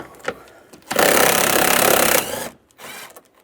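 A power driver with a 10mm socket spins screws out of an interior panel on a 2007-2013 Chevy Silverado, giving a loud close whir of about a second and a half, with a brief second burst and clicks around it.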